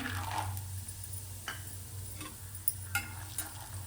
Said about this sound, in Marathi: आता आपण शेंगदाणे तळून घेऊया